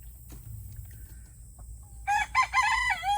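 Backyard chickens, mostly hens, on a small egg-laying farm: faint soft clucks at first, then a loud rooster crow breaks in near the end, heard alone without talk.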